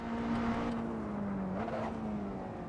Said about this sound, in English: over revving there, and it's slowing me down too much.